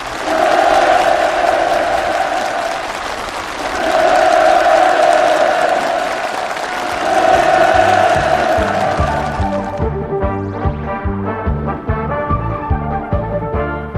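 Enthusiastic clapping and cheering from participants at a farm housing ceremony in North Korea, rising in loud surges, then giving way to music.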